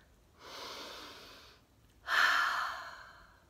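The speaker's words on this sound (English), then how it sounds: "Let's take a deep breath before we begin." A deep breath is drawn in and then released, two smooth airy swells close to the ear, the exhale slightly stronger and fading out slowly, with no talking.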